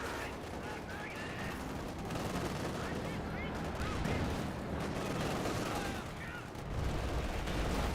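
Gunfire and explosions in a Company of Heroes 2 battle between combat engineers, Panzer IV, Cromwell and KV-8 tanks: dense, continuous rattling bursts and rumbling booms, loud throughout, with a voice speaking over the battle.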